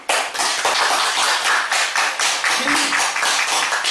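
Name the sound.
congregation clapping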